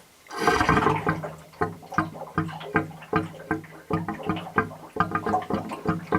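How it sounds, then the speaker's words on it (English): Water rushes at first, then settles into a rapid, regular series of gurgling glugs as air bubbles up through draining water in a Heatrae Sadia Megaflo water heater's air gap, close and alone. "you can hear the water going into the bathroom, so it's ejecting the water out of the airspace, and the glugging is taking in more air"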